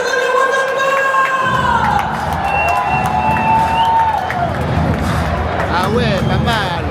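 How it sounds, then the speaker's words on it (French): A football stadium crowd at a Nantes match applauds before kickoff, a dense, steady roar of many voices with whistle-like tones rising over it and no break in the noise. "Ah ça applaudit Roger maintenant"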